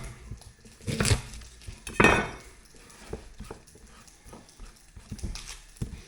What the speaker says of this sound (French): on coupe des carottes